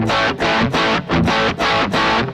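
An electric guitar through a Laney IRT Pulse plays about six chunky, rhythmic strummed chords with a mild, gritty distortion crunch, each chord ringing briefly before the next.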